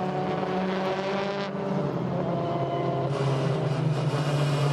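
WTCC touring race cars at the Paul Ricard circuit in France drone steadily, with a sustained engine roar and a shift in pitch partway through as cars pass, heard without commentary.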